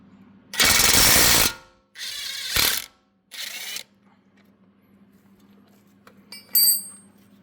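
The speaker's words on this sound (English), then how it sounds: "on my left is a 16 mil that I'm going to use my impact drive" Impact driver loosening a 16 mm suspension bolt on a BMW X1 F48 front strut while an 18 mm spanner counter-holds, giving three loud close rattling bursts of hammering, then quiet with small metallic clicks.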